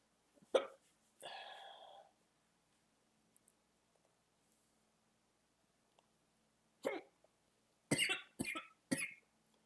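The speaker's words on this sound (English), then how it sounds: "I hate these hiccups so much." Several sharp hiccups from one person: one near the start, a longer throaty burst after it, then a quick cluster of three or four close together near the end, with quiet gaps between.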